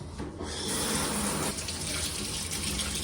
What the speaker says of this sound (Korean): 따뜻한 물잘 나옵니다